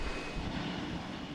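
Engines of a Boeing 787 Dreamliner give a steady broadband roar, moderately loud and unbroken for the brief stretch, with no talking over it.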